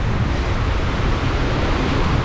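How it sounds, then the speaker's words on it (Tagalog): Loud, continuous rushing of large sea waves in rough weather at the Sta. Ana Wharf coast in Davao, a dense roar with wind mixed in and no talking. "Ang laki ng alon."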